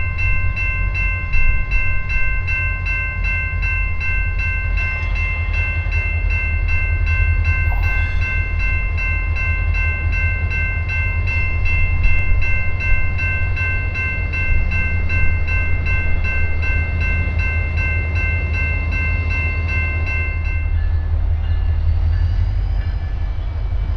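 A diesel freight locomotive, CSX GP40-3 No. 6535, rumbles steadily nearby with its train, a sustained high-pitched tone ringing above the heavy engine drone.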